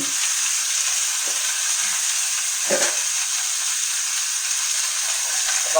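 A splash of water hits a hot pan of cheeseburger patties and sets off a loud, constant hiss and sizzle that stays steady throughout, with faint clatter underneath.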